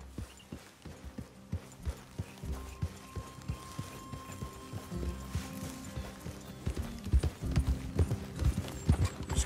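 Horses gallop in Red Dead Redemption 2, their hooves beating a steady, rhythmic clip-clop that grows louder and denser toward the end over a low rumble of movement and game music.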